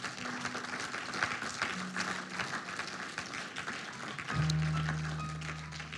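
A church congregation claps and applauds in praise, a steady crowd wash of hand claps running throughout, swelling slightly near the end under sustained organ or keyboard tones.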